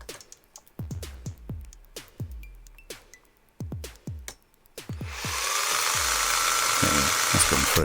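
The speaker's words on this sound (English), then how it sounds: "So, I'm running a 4mm drill bit through here." After a series of sharp taps and knocks, a power drill with a 4mm bit starts up and drills through a slot car body with a loud, steady whine to the end.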